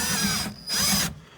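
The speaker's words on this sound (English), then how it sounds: "We need to remove the three T25 Torx head screws that hold the fill neck in place." A power drill backs out T25 Torx screws holding the fuel fill neck on a 2001-2004 Dodge Dakota during a fuel pump replacement, giving two short, close whirring bursts separated by a brief pause.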